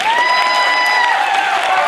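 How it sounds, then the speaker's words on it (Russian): Audience applause at a televised talent show selection round in a hall, steady broadband clapping with a sustained tonal musical note running underneath throughout, loud and continuous. "Аплодисменты."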